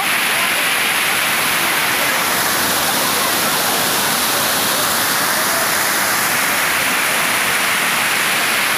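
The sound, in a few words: strong water current at Bhushi Dam, Lonavala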